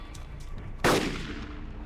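A firearm goes off in the survival video game DayZ, a single sharp, loud gunshot cracking out near the middle of the stretch and decaying quickly over a low background hum.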